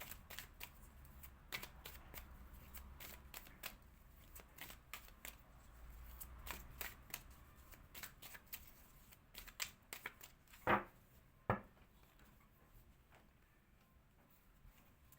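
Tarot card decks being opened and shuffled at close range, soft riffling and slipping of cards with light taps, a couple of sharper snaps near the end, quiet with no talking.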